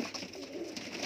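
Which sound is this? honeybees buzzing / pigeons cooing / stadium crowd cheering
pigeons cooing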